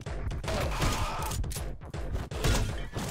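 Enemy gunfire in the video game Anger Foot: rapid, loud volleys of shots and impacts come in quick bursts, separated by brief gaps.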